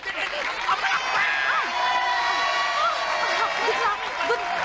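A game show studio audience applauds and cheers in a steady, dense wash of clapping and crowd noise that runs the whole time at an even, fairly loud level.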